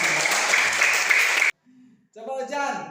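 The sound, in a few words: applause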